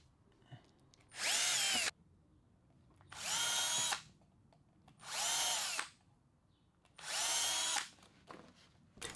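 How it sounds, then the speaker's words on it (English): A power drill bores pilot holes for workbench legs in four separate, even bursts of whining motor, each about a second long, with short quiet gaps between them. "Then I can drill pilot holes through the marked holes."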